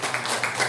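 A church congregation at a Friday prayer meeting claps in a short burst, a few quick rhythmic claps, close and moderately loud.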